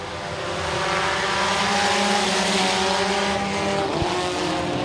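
A pack of IMCA Sport Compact race cars roars off the start of a heat race at a dirt oval speedway, engines loud and sustained, rising as they accelerate past.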